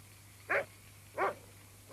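A dog barks outdoors on a clear night, three sharp separate barks spaced roughly evenly apart, moderately close and loud against a faint steady hum.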